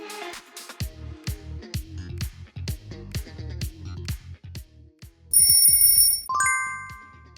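Samsung smartphone ringtone playing alone: a bright, rhythmic run of plucked marimba-like notes that ends in a burst of sustained high electronic tones.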